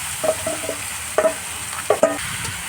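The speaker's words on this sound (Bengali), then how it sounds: "এবারে দিয়ে দেবো সেই ম্যারিনেশন করে রাখা মাংসগুলো" Marinated country chicken pieces going into hot oil with bay leaves, dried chillies and whole garam masala, giving a steady sizzle broken by a few sharp scraping stirs of a spatula against the pan.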